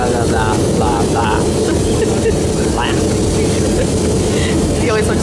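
A loud, steady roar of jet engines fills an airliner cabin from a seat above the engine, with muffled voices talking intermittently beneath the drone.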